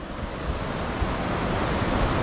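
Steady broadband rush of plentiful water flowing at a village river picnic spot, continuous and fairly close, with no voices.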